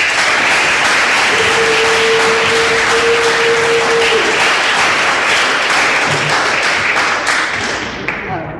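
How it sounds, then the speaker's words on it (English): An audience at a lecture gives a sustained, dense round of applause, loud and steady throughout before tapering off at the very end. "Please join me in a warm round of applause"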